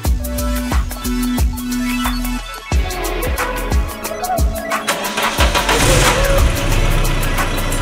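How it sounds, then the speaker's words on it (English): A VW Golf engine runs steadily after an oil refill, loud and close, with a low rumble and some mechanical clatter rising toward the end. "fill the engine with oil and run for a few minutes"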